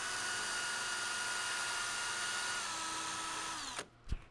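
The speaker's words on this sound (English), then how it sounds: "Take a little 220 grit sandpaper, any grit." Sanding the screw head of a Winchester Model 71 rifle on 220 grit sandpaper with a steady, close, high motorized whine that winds down near the end, followed by a couple of brief knocks.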